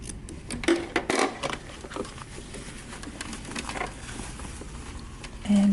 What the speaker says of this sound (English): Trim your corner.